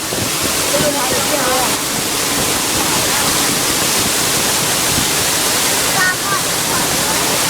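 Floodwater rushes past a house like a river during a flood, a loud, steady broadband roar that continues throughout with faint voices underneath.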